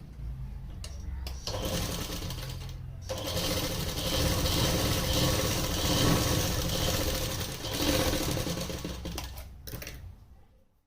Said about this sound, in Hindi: पहले हम इस पॉकेट को तैयार कर लेते हैं। इस पे सिलाई लगा के